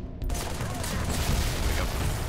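A plasma turret in the first-person shooter Halo 3: ODST fires in a sustained, loud burst of crackling shots under busy combat noise, steady and close throughout after a brief quiet opening.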